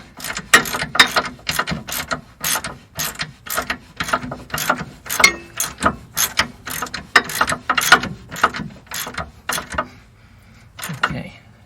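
A ratchet wrench tightens bolts on a VW Type 3 independent rear suspension subframe, with a rapid series of close, sharp ratcheting clicks in quick strokes that then slow and stop near the end.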